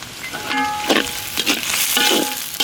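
Cumin seeds sizzle in hot oil in a pan with cinnamon and chili. The steady frying hiss is broken by several short, bright bursts of stirring.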